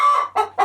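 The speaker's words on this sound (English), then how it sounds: "The chicken." A chicken gives three quick close clucks on a goat farm, one drawn-out call followed by two shorter ones, loud and alone.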